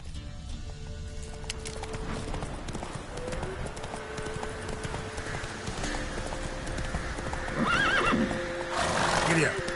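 Witcher 3 horse Roach clip-clopping steadily at a walk, with a neigh toward the end, under ongoing game sounds and music.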